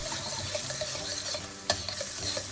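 Red chili goes into a hot frying pan for salted egg shrimp and is stirred, with a steady sizzle and scraping, one sharp clack partway through, close and without talking.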